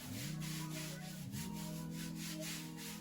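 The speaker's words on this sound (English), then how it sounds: "And just rub back and forth, all up in there" Hands rubbing hair product through short curly hair, making a close, continuous back-and-forth rustling friction with a faint steady hum underneath.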